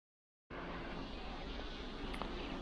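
A dense cloud of honeybees buzzes around an open hive during a honey harvest, a continuous close hum with no pauses that fills the whole stretch after a silent start.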